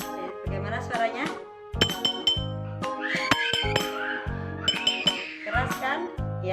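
A spoon taps empty glass bottles in repeated ringing clinks of several pitches, each tone lingering briefly. The strikes are loud and near, and faint voices or other sounds may be present alongside them.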